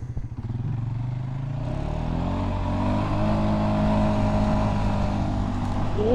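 A Polaris Sportsman 570 ATV climbs a steep hill at full throttle. The single cylinder engine revs up from idle into a loud, sustained, close-up roar that holds high for several seconds.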